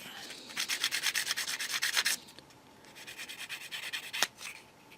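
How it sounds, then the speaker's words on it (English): A sanding stick rubs quickly over a small plastic part from a 1/35 scale Chieftain Mk10 tank model kit, making rapid rhythmic scratchy strokes in two close bursts, with a sharp tap near the end. "So quick smooth with a sanding stick."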